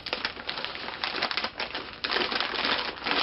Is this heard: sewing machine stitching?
no